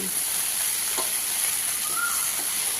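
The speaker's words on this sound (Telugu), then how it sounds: "అన్నిటినీ కలుపుకుంటూ ఫ్రై చేసుకోవాలి" Okra and long-cut raw mango pieces frying in hot oil, giving a loud, continuous close sizzle with faint stirring scrapes and no speech.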